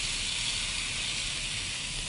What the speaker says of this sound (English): And that's what you want, that sizzle.